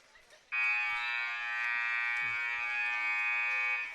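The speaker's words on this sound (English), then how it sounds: "As the final buzzer sounds" The final buzzer at a high school basketball playoff game in a gym: one loud, sustained electronic buzz lasting about three and a half seconds, with faint crowd noise around it.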